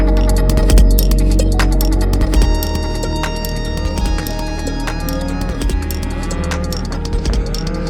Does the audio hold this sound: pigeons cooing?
no